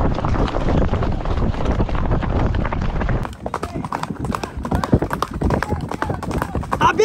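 Horse hooves clip-clop along during a group trail ride, rapid steady beats close by, with wind buffeting the microphone and riders talking and shouting over the hoofbeats throughout.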